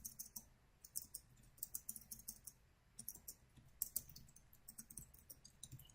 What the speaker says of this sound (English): So if I type something in Spanish, so such as la demo de Braulio